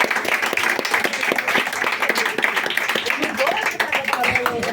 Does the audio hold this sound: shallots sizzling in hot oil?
no